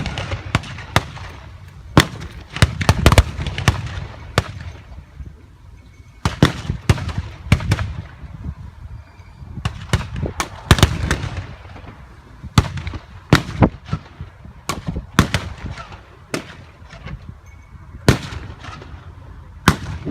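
Battle reenactment of a D-Day beach assault with machine guns, mortars and small arms, rendered as a long run of sharp cracking shots and bursts, some in quick clusters, others isolated, loud and fairly close.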